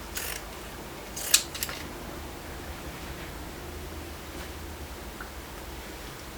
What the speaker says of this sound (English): pinking shears, what that means is that the fabric is not going to fray